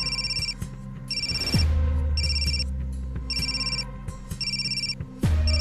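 A telephone rings in repeated electronic bursts, loud and close, with a low swelling music bed entering partway through in a Hindi TV crime drama scene; no one speaks over it.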